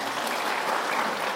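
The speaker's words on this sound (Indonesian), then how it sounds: "Tepuk tangan untuk beliau." Crowd applause greets a gubernatorial candidate at a political rally in Jambi, a steady, dense wash of clapping that stays even throughout the short stretch, with no talking on top.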